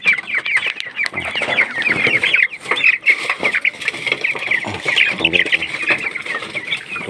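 Chickens cluck and chatter steadily at feeding time, a dense flock of close, overlapping calls filling the whole stretch with no pauses.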